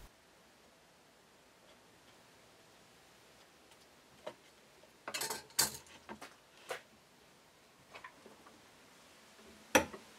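Marking a tenon position on reclaimed wood for a serving tray: faint, sparse scratches and taps of a marking tool on timber, scattered quiet strokes with a sharper click near the end.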